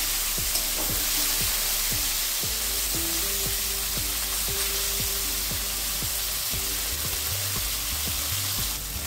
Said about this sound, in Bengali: এই মাছটা খুব সাবধানে ভাজতে হবে